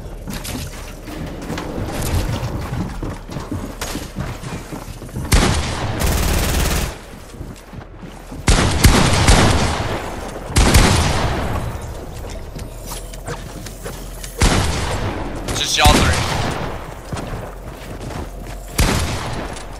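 Gunfire in a Fortnite match crackles in several loud, sharp bursts and rapid volleys, separated by quieter stretches of clicking mechanisms and background game noise.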